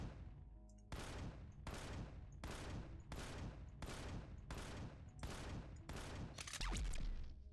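Gunfire from a weapon emptied in a full-clip test in the survival game Empyrion Galactic Survival (Reforged Eden 2), eight or nine loud, evenly spaced heavy shots with a steady roar between them and a denser burst at the end.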